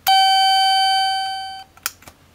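A CE Electronics/EPCO elevator chime sounds once as a single bright, sustained gong tone, the down or up signal, fading over about a second and a half, followed by a couple of faint clicks.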